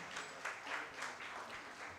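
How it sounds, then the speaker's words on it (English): An audience at a university's international conference applauds in a soft, distant wash of clapping that stays quiet and steady, rising slightly in a few gentle swells. "A huge round of applause, ladies and gentlemen."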